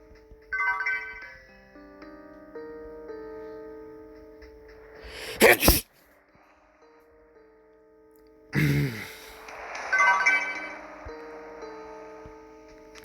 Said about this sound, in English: Ugh, that was a nasty sneeze.